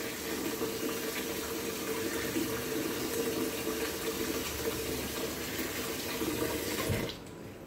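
Tap water runs steadily into a kitchen sink as a small child washes dishes, a continuous close splashing hiss that cuts off abruptly near the end.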